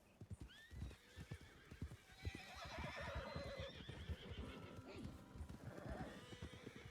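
Horse hooves clip-clop steadily in the Red Dead Redemption 2 video game, joined by a whinny, while a person talks over the game sounds.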